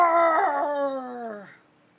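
A human voice imitates a lion's ferocious roar, one drawn-out growling howl that wavers and falls away over about a second and a half before silence.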